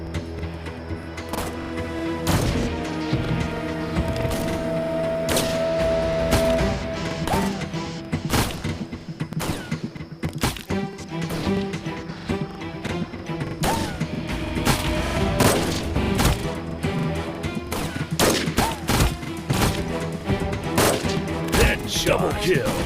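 Rapid sniper rifle shots crack repeatedly in the Sniper Arena mobile game, dense bursts of sharp loud reports with booming impacts spread throughout, while a game announcer's voice breaks in now and then.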